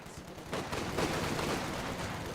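A loud, dense burst of machine gun fire in a war video game forms a sustained rattling roar that holds steady for a couple of seconds, with no voices over it.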